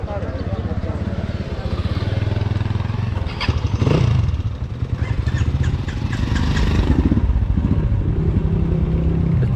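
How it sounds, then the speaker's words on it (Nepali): A Royal Enfield Bullet motorcycle engine runs with a steady, deep thumping idle that swells briefly, close by, while people talk over it. "Bullet bike."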